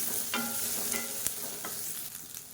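Red chillies sautéing in oil in a pan, a steady low sizzle with a few scraping stirs of a spoon across the pan, close and moderately quiet, no talking.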